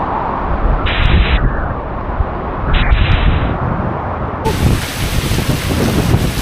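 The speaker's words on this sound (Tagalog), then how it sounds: "Ah, lakas ng hangin." Loud, continuous typhoon wind buffeting the microphone in heavy gusts, with a roaring rush that surges and swells throughout.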